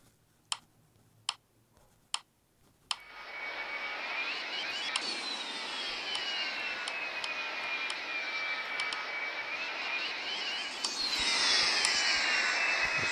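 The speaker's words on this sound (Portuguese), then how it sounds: "Vou aqui ligar os motores." Airliner engines spool up in the Extreme Landings Pro flight game after a few sharp clicks, building into a steady whining jet roar with a rising turbine tone that swells louder near the end, with no talking.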